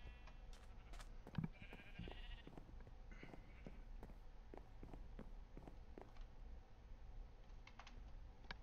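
Minecraft sheep bleat in short bursts in a modded game world, mixed with steady computer keyboard typing and clicking close by throughout.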